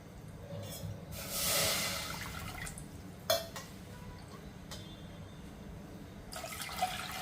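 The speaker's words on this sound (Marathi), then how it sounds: "तर दोन बाउल मी पाणी घेते" Water poured into a bowl for rice-flour modak dough, a short splashing pour followed by scattered drips and light clinks in a quiet kitchen.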